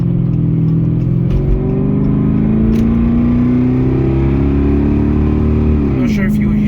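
A 2011 Dodge Charger with a loud muffler idles and revs in a steady low exhaust drone with shifting engine tones, and a few faint pops come through near the end.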